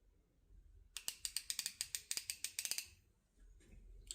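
A Craftsman V-series socket ratchet skips teeth, producing a quick run of sharp, close metallic clicks in an uneven burst, quiet and alone without talk.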